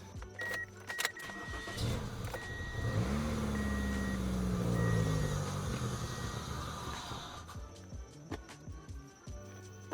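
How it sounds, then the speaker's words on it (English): An older project car with a loose, leaking fitting cranks and catches, its engine running roughly for several seconds at close range before faltering and stalling out, with no talking. "I'm going to try to see if I can start the car with this loose like that."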